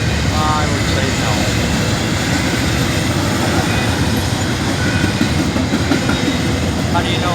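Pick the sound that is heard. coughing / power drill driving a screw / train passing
train passing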